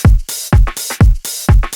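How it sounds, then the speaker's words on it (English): A looping drum break of repitched snare ghost hits through a bandpass filter: four evenly spaced bars of a deep thumping hit followed by quick, filtered snare taps, punchy and loud, with no voices. "It's just this snare, this drum break alone, these ghost hits in the background."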